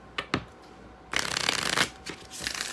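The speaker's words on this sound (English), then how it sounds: "Gonna also pull some oracles from the Moonology as well." Moonology oracle cards are shuffled in two quick riffles, then a longer, close, rustling shuffle and a few softer flicks, with no talking.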